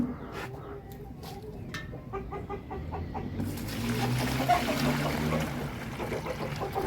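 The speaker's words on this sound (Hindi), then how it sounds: "ये मैं पानी इसमें मिक्स करता हूँ तो गर्म पानी इनको डाल के देता हूँ" Warm water poured from a small container into a bucket and mixed for hens given multivitamin medicine, a soft trickling and splashing that grows louder midway, with hens clucking faintly nearby.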